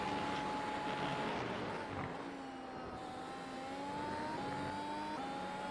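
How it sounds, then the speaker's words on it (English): A race car engine runs while the driver overdrives the entry to a corner, heard as a continuous mid-pitched drone from a distance that holds steady and shifts pitch slightly as the car moves through the turn. "And now this is me overdriving the entry."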